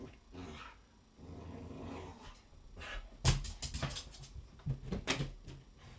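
A dog growls low and rumbling, then breaks into a few loud, close barks and snarls, with the growling continuing between bursts.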